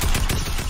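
Gunfire in a competitive online shooter match, a loud rapid burst of several close shots in quick succession with no talk over it.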